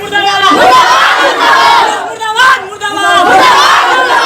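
A street protest crowd chanting slogans against the police, loud massed voices rising in repeated rhythmic shouts close by, with a brief dip in the middle before the chant surges again.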